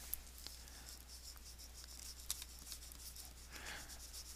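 Pencil shading on paper while drawing an eye, a faint, continuous close scratching hiss with small light strokes and taps, quiet and alone.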